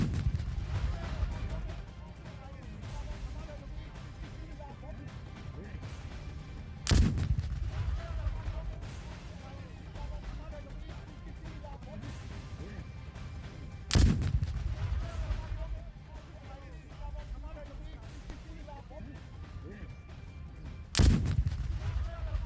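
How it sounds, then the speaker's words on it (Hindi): A bomb squad destroys a large cache of RDX in a controlled detonation: three heavy, distant booms land at regular intervals, each followed by a rumbling tail over low background noise. "तो ये धमाके की आवाज आप सुन पा रहे हैं,"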